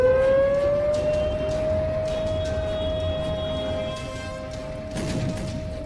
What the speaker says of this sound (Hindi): एयर स्ट्राइक के सायरन कभी भी गूंज सकते हैं।